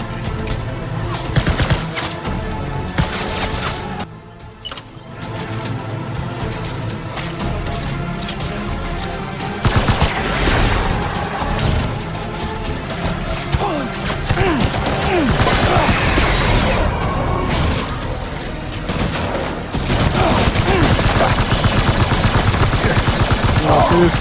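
Gunfire in the video game Death Stranding: repeated bursts of shots ring out over a dense, steady game soundscape, with loud clusters of rapid reports that grow busier toward the end.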